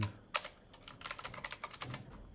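Quick bursts of computer keyboard typing while writing C code, close, crisp clicking keystrokes in irregular clusters over a quiet background, with no one talking.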